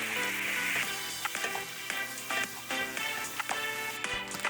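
Chopped vegetables with minced garlic and green chili fry in a pan, a steady bright sizzle broken by irregular stirring clatters against the pan, close and moderately quiet.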